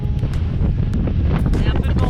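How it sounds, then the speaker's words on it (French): Strong wind gusts buffet the microphone aboard a sailboat heading out of a harbor channel, a loud, steady roaring rumble with brief bursts of noise throughout. "Il y a un peu de vent là."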